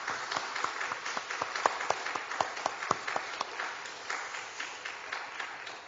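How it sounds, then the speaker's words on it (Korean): A church congregation claps in praise and worship before a sermon, a room full of people applauding with distinct, rhythmic hand claps that stay steady, then gradually thin out. "우리 주님께 찬양과 경배의 박수를 먼저 올려드리겠습니다"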